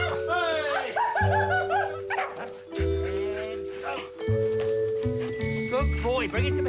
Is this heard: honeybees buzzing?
no